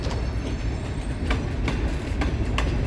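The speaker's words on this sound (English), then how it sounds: "It's a hydrochloric acid train." A freight train carrying hydrochloric acid rolls past close by, a continuous rumble with repeated rhythmic clicks of wheels over rail joints.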